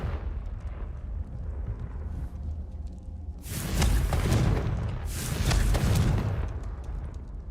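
Two loud, booming fire-spell explosions from Hogwarts Legacy, the Confringo curse, each a broad roaring burst lasting over a second, the second following about two seconds after the first, over a low rumbling game backdrop.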